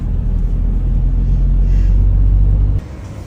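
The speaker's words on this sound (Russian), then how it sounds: "Все машины стоят в очереди, чтобы попасть в эту заправку." Cars queuing for petrol at a filling station in Mongolia during a fuel shortage, a loud close engine rumble idling steadily and then cutting off abruptly near the end.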